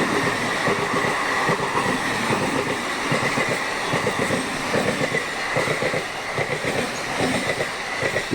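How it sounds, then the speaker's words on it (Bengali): A train rolls past beside a paddy field, its wheels clattering in a steady clickety-clack rhythm along the rails, loud and close for the whole stretch. "আর এই দেখো ট্রেন ঢুকে গেল হঠাৎ।"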